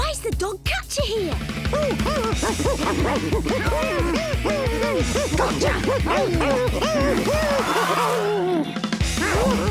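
A cartoon dog barking in rapid repeated yaps and yips, loud and busy throughout with lively music and other cartoon sound effects mixed in.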